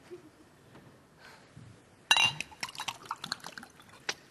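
Water poured into a glass at a conference plenary session, a brief start then a run of splashing, gurgling bursts with a light clink, fairly close and alone.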